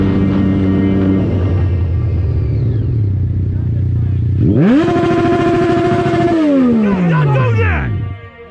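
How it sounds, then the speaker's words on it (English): A Kawasaki Ninja 650 motorcycle engine idles with a loud, close, harmonic drone, then revs sharply upward, holds a high whine for a couple of seconds and winds back down before the sound cuts off. "Ninja 650. Kawasaki. Ninja 650. That's a sweet bike, man."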